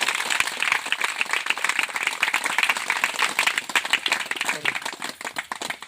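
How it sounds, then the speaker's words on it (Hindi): A church congregation claps throughout a Hindi worship service, a dense, steady patter of many hands that stays loud and close for the whole stretch. "तालियों को बजाइए यीशु के लिए।"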